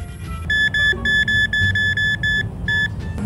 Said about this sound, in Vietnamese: Tiếng tít tít là của máy bay của tớ đây.